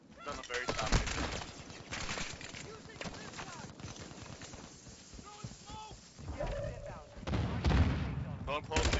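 Gunfire in a Call of Duty Warzone ranked match: repeated close shots and bursts crackle throughout, heavier near the end, with game effects layered over them.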